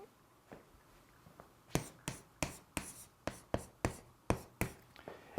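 A Korean lecturer writes a Chinese character by hand, a series of about a dozen crisp, evenly spaced tapping strokes of pen or chalk on a surface, close and clear with no talk.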